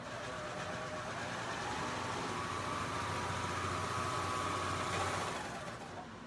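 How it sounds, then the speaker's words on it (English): A serger sewing machine running a test stitch for a quilt block, a steady continuous motor whir that holds even for several seconds and then stops, close and fairly loud with no talking. "give this a little test to make sure that the stitching looks right"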